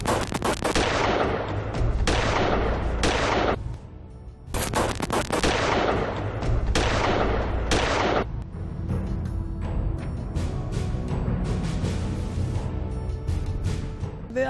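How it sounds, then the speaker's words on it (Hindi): Gunfire in a neighbourhood of Begumkot rings out in loud, sharp bursts and rapid volleys, close and echoing, with several heavy strings of shots followed by quicker, scattered cracks. "हर रोज फायरिंग करते हैं।"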